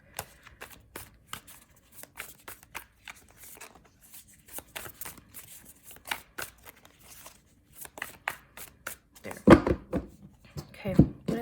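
Tarot cards are shuffled in a long series of quick, crisp riffles and flicks, close up, with a few louder slaps and thumps toward the end.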